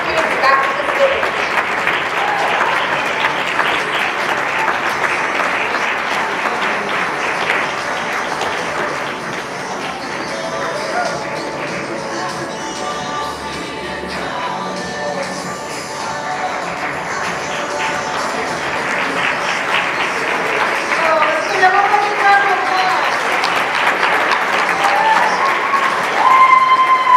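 Sustained audience applause and cheering for pageant contestants and county queens returning to the stage, a dense, loud, steady wash of clapping that lasts throughout and swells toward the end.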